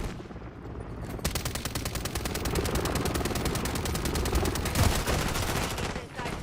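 Rapid automatic gunfire from a hostile remote turret in a video game erupts after a brief quieter lead-in, then rattles on loudly and continuously for several seconds before easing off.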